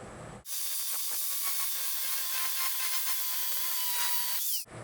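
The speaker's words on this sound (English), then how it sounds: "I think I'll get the grinder and get rid of some of these pipe wrench marks" A steady, high-pitched angle grinder whine runs continuously for several seconds as it grinds a metal drive shaft up close, then cuts off abruptly.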